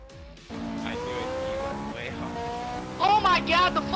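Race cars from the Forza Motorsport 5 video game, an engine drone that jumps in after a moment of quiet, then a burst of squealing, skidding tires near the end.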